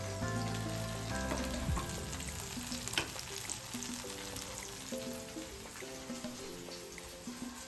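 Paneer tikka fries on a full tava, a close, steady sizzle and crackle with intermittent scraping and stirring sounds, faint hum beneath, no talk.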